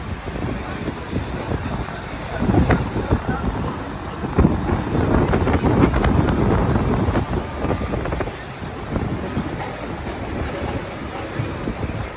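Steady wind buffeting a microphone on the top deck of an open-top bus in Manhattan, a broad rushing roar with gusts swelling in the middle, and voices faintly under it.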